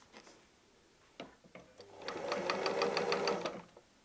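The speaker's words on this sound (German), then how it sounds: "ich sichere meine Naht mit ein paar Rückwärtsstichen" A sewing machine with a 75 universal needle runs a short burst of rapid, even stitching and backstitching at the end of a patchwork seam, preceded by a few soft clicks; the sound is close and alone.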